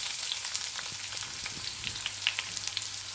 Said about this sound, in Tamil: இது கூட நான் கட் பண்ணி வச்சுருந்த ஒரு வெங்காயம் சேர்த்துருக்கேன்.